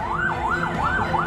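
Fire engine siren wailing in repeated rising-and-falling sweeps as trucks respond to a market fire in Sentani, Jayapura, loud and fairly close over a low road rumble.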